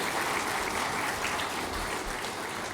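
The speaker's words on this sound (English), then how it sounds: "giving a round of applause to Maddie Kay" A full room at a clubs and community awards night applauds for a performer, a dense, even roar of many hands heard from within the crowd.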